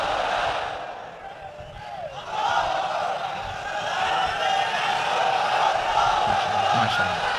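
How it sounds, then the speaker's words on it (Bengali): A large crowd at an outdoor Quran tafsir mahfil in Chittagong raises a loud collective chant of takbir, voices swelling in unison and sustained over a continuous crowd murmur. "তাকবীর পড়ুন, লিল্লাহি তাকবীর"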